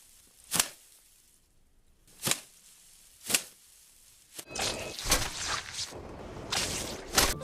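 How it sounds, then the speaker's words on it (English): Foley effect for Spider-Man's web: three sharp, isolated swishing snaps at even intervals, then a denser burst of rapid whooshes and squishy thwips, close and fairly quiet, with no voices. "how to make Spiderman web sound."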